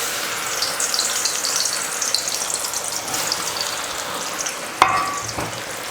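Sliced raw banana (plantain) frying in hot oil for a crispy chilli snack, a steady bright sizzle throughout with a sharp clink of a utensil near the end.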